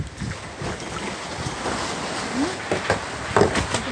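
Strong wind gusts buffet the microphone outdoors, a steady roaring rush with sharper bursts throughout, loud and continuous with no clear speech.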